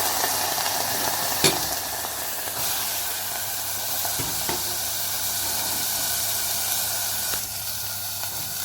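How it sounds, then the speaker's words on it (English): Lentils, rice and 7 spice powder tipped into a pan of browned onions for Lebanese mujadara, a steady hiss and sizzle from the pan with a few sharp clinks and scrapes of stirring. "I'm going to add the lentil and the rice and the 7 spice powder one by one."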